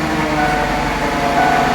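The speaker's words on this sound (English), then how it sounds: "I'm gonna go ahead and start the engine." A Ford Freestyle engine runs steadily at idle after being started, a low continuous hum with a faint mechanical rattle, close and fairly loud with no talking.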